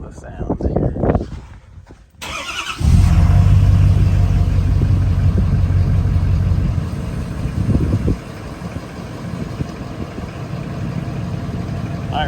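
A 2011-2016 Ford F250 with a 6.7L Powerstroke diesel and MBRP exhaust fires up after a short crank and settles into a deep, steady idle rumble, with wind noise and people talking over it.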